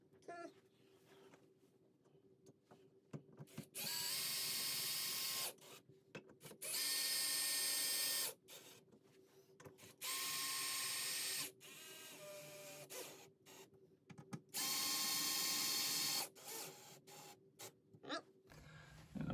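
A power driver tightens screws on in-wall speaker mounts (KEF CI3160RL) against drywall, several loud whirring bursts of a few seconds each separated by pauses with faint handling noise.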